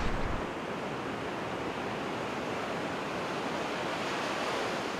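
Ocean surf rolls in at Ocean Beach on a foggy day as a steady, unbroken roar of breaking waves, broad and even throughout, with no voices.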